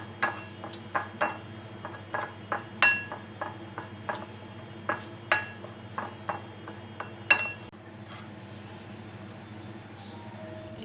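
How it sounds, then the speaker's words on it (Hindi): Spices are mixed in a bowl with sharp, close clinks of a utensil against the dish in an uneven rhythm, which stop near the end and leave quiet room noise. "बाउल में ये सारे मसाले मिक्स करने हैं। अच्छी तरह से इनको मिक्स करना है।"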